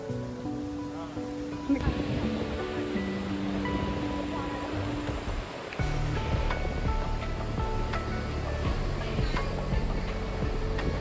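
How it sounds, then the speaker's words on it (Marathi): Roar of a waterfall in the Devkund area of Tamhini Ghat in the Sahyadri hills, a steady broadband rush under shifting background music, moderately loud and continuous. "आवाज येतो ना धबधब्याचा."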